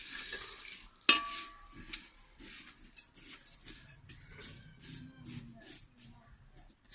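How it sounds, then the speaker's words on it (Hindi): Sheer khurma vermicelli being dry-roasted in a pan with a utensil, giving steady scraping stir and light crackle, with a sharp clink near the start and quieter rustling stirs throughout, close and moderately loud. "अभी शीर खोरमे को हम भून लेंगे अच्छी तरह।"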